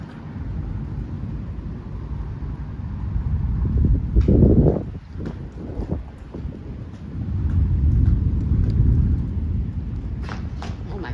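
A severe thunderstorm with high winds and lightning over Frisco, Texas, loud rumbling thunder swelling twice over steady rain and gusting wind noise on the microphone.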